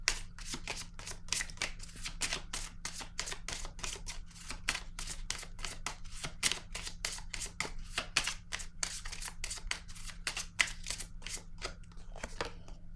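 Tarot cards being shuffled by hand, a steady fast run of crisp riffling snaps and slaps that continues throughout, close and clear over a low constant hum, with no voices.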